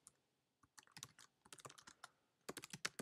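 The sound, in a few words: typing on a computer keyboard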